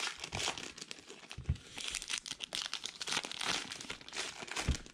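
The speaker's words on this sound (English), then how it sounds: "Let me open this box." A hobby box of 2019 Heritage Minor League baseball cards is opened up close with loud, continuous crinkling and tearing of the wrapper, in uneven bursts.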